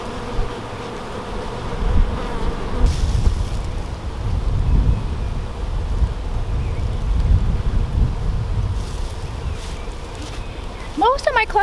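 Honey bees swarm around an open hive cluster during an early-season inspection, a steady dense buzz with wind rumble on the microphone and a voice talking over it.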